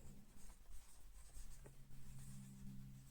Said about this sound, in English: I'm going to write it down for you.